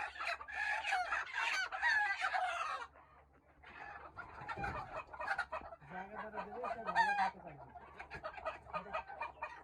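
Desi chickens and a large rooster with a big comb, clucking and calling close by in a farm setting, with a rooster crowing partway through amid ongoing poultry noise.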